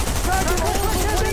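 Rapid gunfire in a Fortnite Zero Build match, a dense continuous burst of shots heard under a voice talking over it.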